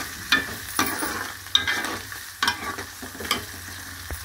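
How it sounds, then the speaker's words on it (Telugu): Curry leaves, coriander and green chilies go into a hot pan of oil with onions and sizzle, with sharp crackles, spatters and stirring scrapes coming in bursts, close by and fairly quiet, with no talking. "కరివేపాకుని కొత్తిమీర పచ్చిమిరపకాయలు వేస్తున్నాను. ఫ్రై అవుతుంది కదా."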